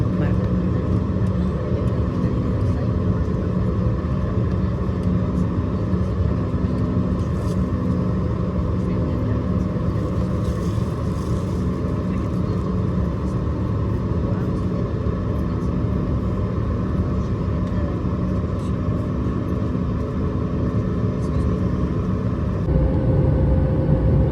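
Airplane cabin noise during a flight from Muscat to Bengaluru over the Arabian Sea: a steady, loud, even roar of engines and airflow that holds for the whole stretch with no talk.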